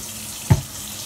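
Hot tap water runs steadily while dreadlocks are being washed, a soft constant hiss broken by one brief thump midway, with no talking.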